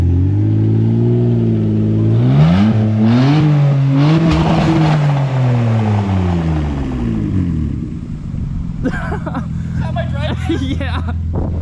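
BMW E46 car engine revving and rising and falling in pitch through several accelerations, with tire noise from the front wheel scrubbing, followed by voices talking excitedly.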